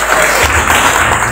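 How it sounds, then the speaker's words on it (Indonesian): Audience applause at a multi-level marketing business event, a loud, dense wash of clapping from a crowd that fills the whole brief moment. "lu tepuk tangan nih buat cewek"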